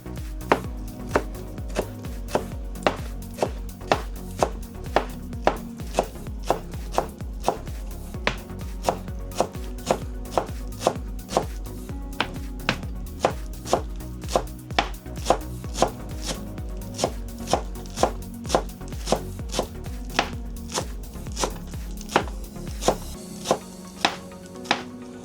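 Fresh cilantro being finely chopped with a knife on a board, a fast, steady series of sharp close knocks continuing for about twenty-five seconds with no talk.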